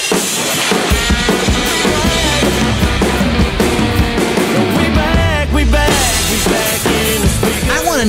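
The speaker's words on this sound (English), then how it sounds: "it's almost like a quasi drum solo," A loud, dense full-band country mix plays the drum-fill section of a song, with busy drums and guitars running continuously for several seconds and no talking.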